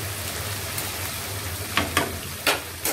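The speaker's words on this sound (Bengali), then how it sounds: "এখন আম্মু রোস্টের মশলা দিয়ে নেড়ে নিচ্ছে।" Roast masala stirred in a frying pan gives a dense, even sizzle with a low hum beneath, broken late by three or four sharp scraping stirs, close up with no voices.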